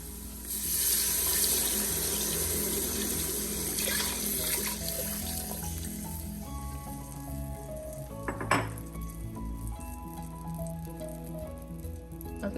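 Water pours from a tap into a cooking pot of Nigerian vegetable fried rice in a home kitchen, a steady rush amid clinking pots and utensils, with a brief louder clank partway through.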